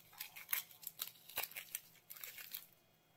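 Dry papery outer skin being peeled off a red onion after a small knife cut: a close, quiet series of crinkling, tearing crackles in quick irregular bursts, with no talking.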